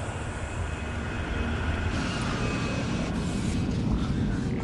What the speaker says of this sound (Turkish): Uçağı geniş bir açıyla döndürdü ve zifiri karanlıkta alçalmaya başladı.